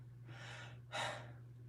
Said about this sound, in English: I can hear your loud breathing.